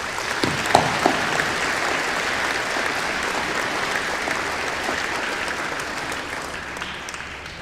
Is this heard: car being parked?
no